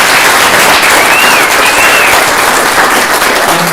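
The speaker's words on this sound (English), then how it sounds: "So one more round of applause, please." An audience at a local history talk gives a loud, dense round of applause that stays steady and close for the whole stretch, with no voices over it.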